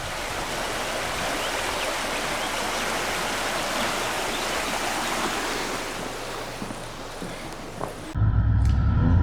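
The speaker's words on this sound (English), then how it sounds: "Little tributary of the Humffray River here." A small tributary of the Humffray River in the Victorian High Country flows steadily, a continuous broadband rush of running water close by that fills the whole clip, ending with a brief louder burst.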